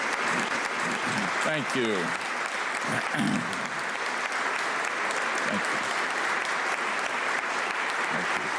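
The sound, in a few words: audience applause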